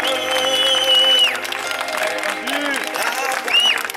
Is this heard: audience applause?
yes